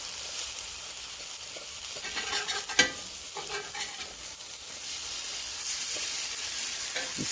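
Eggless French toast fries in a pan with breakfast sausage cooking alongside, a steady sizzle punctuated by clinks and scrapes as pieces are turned, one sharper clatter midway, no talking.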